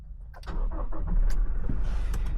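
A Toyota Innova Reborn with a 2.4 diesel engine cranks briefly, catches and settles into a steady, rumbling idle, heard up close from inside the car.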